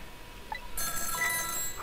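A telephone rings in the video game Ghost Trick: Phantom Detective, a steady electronic ring starting partway through and continuing to the end with no voices over it.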